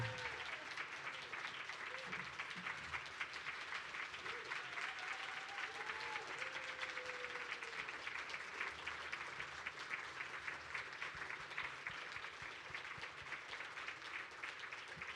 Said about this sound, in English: A round of applause for Senator Trudeau.